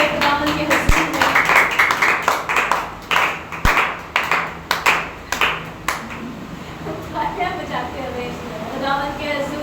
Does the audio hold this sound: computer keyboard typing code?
no